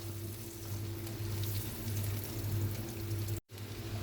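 Minced garlic sautéing in a hot pan as the base for spicy chicken feet adobo, a steady close sizzle and crackle with a low hum beneath, briefly cutting out near the end.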